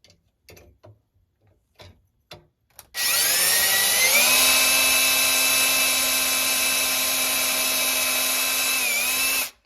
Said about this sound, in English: now, like I said, we're gonna pre-drill